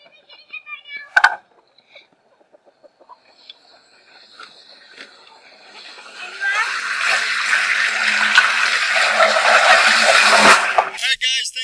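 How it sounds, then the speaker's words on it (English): Water running into a large homemade automatic chicken waterer, a steady rushing hiss that builds from faint clicks and handling noises into a loud continuous flow. "I hear the water running in."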